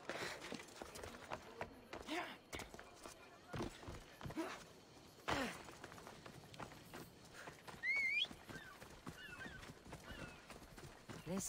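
A horse gallops in the video game Assassin's Creed Odyssey, hooves beating quickly under game music, effects and occasional voices, with a short whinny partway through.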